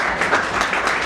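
At a company annual event, an audience claps in a dense, loud burst of applause that fills the whole short moment with no talk.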